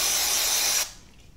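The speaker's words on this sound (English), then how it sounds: "Take a little bit of a brake or parts cleaner." Brake or parts cleaner sprays from an aerosol can onto a motorcycle engine's sealing surface, a loud continuous hiss that cuts off sharply after under a second, leaving quiet room tone.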